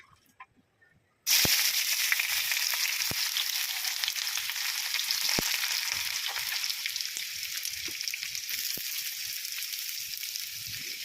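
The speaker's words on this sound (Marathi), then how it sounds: "तर इकडे आपण छान असा कांदा तळून घेणार आहोत" Sliced onions hit a little hot oil in a wok for biryani and burst into a loud, steady sizzle after a quiet second, the hiss holding strong with faint crackles throughout.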